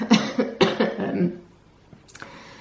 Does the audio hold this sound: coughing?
yes